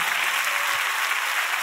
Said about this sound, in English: Clap your hands one time.